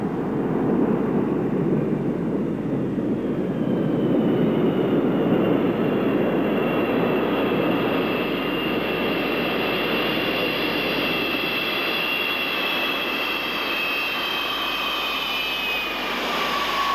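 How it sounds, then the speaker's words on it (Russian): The Buran space shuttle rolls down the runway with its nose gear raised, a steady loud jet roar with a high whine that holds for the whole stretch and carries no voices. "Последняя пробежка проводилась с поднятием передней стойки шасси."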